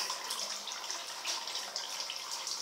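Leftover water runs out of a rubber hose in a steady, soft hiss and splash, continuous and fairly faint.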